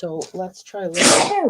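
A single sharp sneeze bursts out right after a short stretch of someone talking, loud and close.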